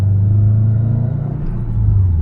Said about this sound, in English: you can never get tired of the Subi rumble